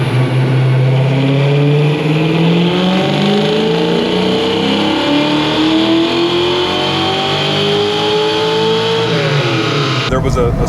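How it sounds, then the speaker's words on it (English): A Fastback car engine revs hard and loud on a dyno, climbing steadily through its range for about ten seconds before cutting off abruptly. "I got an opportunity to get the car back on the dyno."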